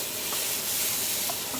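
Onions and peppers sizzle steadily in a frying pan as sausage cacciatore cooks, a close, continuous hiss with no talking.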